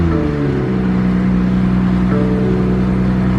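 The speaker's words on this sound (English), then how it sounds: "I just want to start it again. Let's start it in sport. See how it sounds in sport." An Infiniti Q50 engine runs in sport mode right after starting, giving a loud, close, steady mechanical hum with a low droning tone and a slight rise in pitch partway through.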